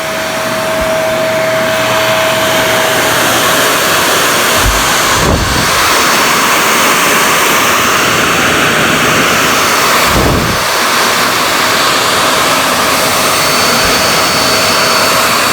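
Shark Navigator DLX NV70 upright vacuum cleaner running with a steady, loud whooshing motor roar throughout, a couple of brief low thumps partway through, no talking.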